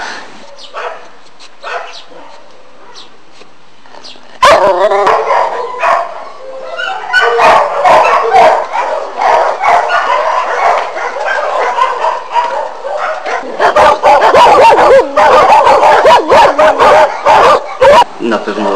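Many dogs at a shelter bark, yip and whimper in overlapping bursts, loud and close, growing busier after a quieter start, with a person talking in the background.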